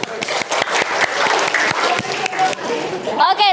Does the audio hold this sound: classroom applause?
yes